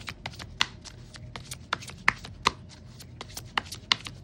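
Tarot cards are shuffled and handled close up, making a steady run of crisp riffling slaps and sharp snaps at an irregular rhythm, with no talk.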